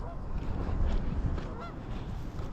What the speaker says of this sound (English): Even the geese have just got up and getting ready to go